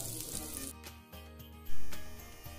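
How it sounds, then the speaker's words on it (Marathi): A hot tempering of mustard seeds and asafoetida sizzles over green tamarind thecha, crackling steadily and then flaring into a loud burst of sizzle as the oil hits. "वरून अशा पद्धतीने मोहरी आणि हिंगाची फोडणी द्या"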